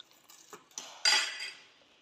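A spoon mixes salad with curd in a bowl, making a few light clinks and scrapes and then a brief louder stir, close and otherwise quiet with no talking.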